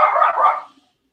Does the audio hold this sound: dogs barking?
yes